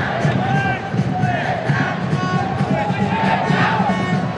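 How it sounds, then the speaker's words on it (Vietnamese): A football crowd at Thong Nhat stadium in Vietnam cheers and roars in a dense, sustained wave that swells and falls, with a voice talking over it. "Những pha xử lý đã mang lại những tràng pháo tay"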